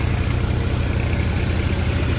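A tractor engine running on a farm during soybean threshing, a steady low mechanical drone at close range, even and unbroken with no voices.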